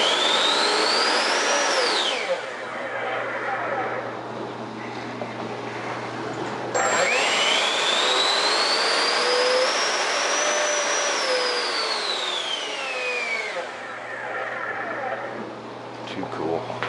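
Scratch-built 70mm electric ducted fan jet model with an afterburner, a loud close high-pitched whine that spools up and down in two long runs with a steady hum underneath.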